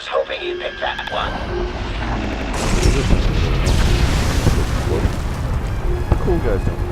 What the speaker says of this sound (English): The cool guys don't like explosions.